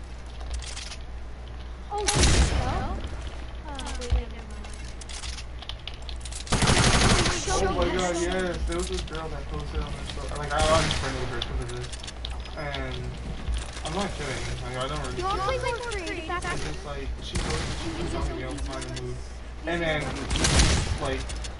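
Pistol gunshots in a shooter video game ring out as several loud sharp cracks spread across the stretch, with people talking over the game noise throughout.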